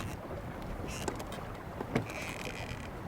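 A traditional wooden felucca sailboat under way on the Nile in Sudan, giving a steady wash of water and wind noise with a couple of faint creaks and knocks.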